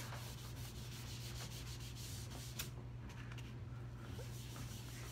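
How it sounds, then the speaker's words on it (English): Steady scrubbing rub of a sponge dabbing base coat paint onto a watermelon painting, continuous and close, over a low constant hum. "I use a sponge to apply my base coats"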